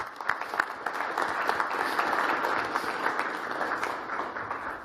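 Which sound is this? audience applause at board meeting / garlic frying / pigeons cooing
audience applause at board meeting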